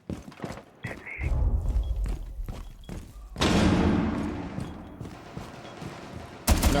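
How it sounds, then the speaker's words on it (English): A C4 charge detonates in a Rainbow Six Siege match, a heavy blast with a rumbling, debris-filled tail after scattered thuds and shots, followed by another sharp hit at the end. "C4 out. Detonating."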